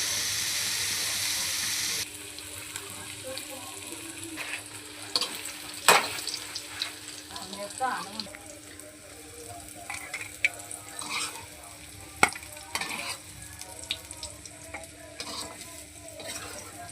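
Paneer fries in a pan with turmeric and chili, a steady soft sizzle beneath scattered stirring clinks and scrapes of a utensil against the pan, with no talking.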